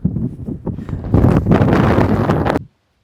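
Strong wind buffets the microphone on Kondarangi hill near a hilltop temple, in loud, roaring gusts that build and sustain, then cut off abruptly near the end.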